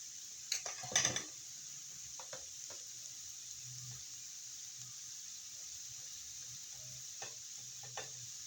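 Onions fry with turmeric powder in a pan for a beef pathiri filling, a faint low sizzle broken by a few spatula scrapes and stirs, with no talking.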